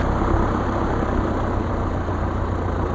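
A DR400 light aircraft engine idles steadily at about 800 rpm, a loud, close, even low drone with no breaks, heard alone without talk.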